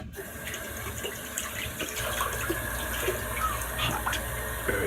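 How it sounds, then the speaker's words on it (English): Hot water running into a shaving lather bowl during a wet shave with a Gillette razor and boar bristle brush, a steady close pouring and filling splash that continues throughout. "Gonna have to put a little more water in here too."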